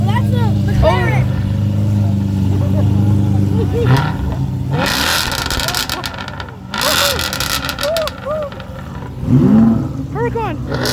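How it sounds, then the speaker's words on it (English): Revving engines at a crowded car show, including a McLaren, with loud bursts of throttle rising and falling over steady crowd chatter and nearby voices. "That's the McLaren."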